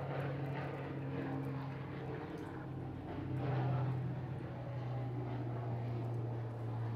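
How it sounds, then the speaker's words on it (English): An airplane passing overhead outside a workshop during a live stream, a low steady propeller drone that swells a little midway and carries on at moderate distance for several seconds. "Goes a plane."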